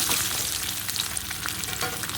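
Soybean chunks frying in hot oil in a pan, a loud, dense, crackling sizzle held close and continuous throughout, no voices.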